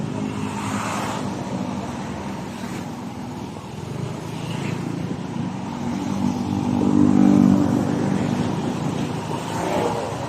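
A Yamaha NMAX version 1 scooter runs on a test drive, its engine humming steadily with a rise in revs partway through, close and fairly loud, no talking.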